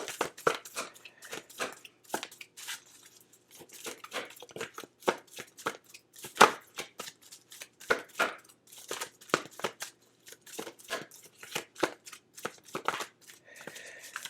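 Tarot cards being shuffled in rapid bursts of crisp riffling and slapping, close and fairly quiet, with a few louder snaps and short pauses between runs; no one speaks.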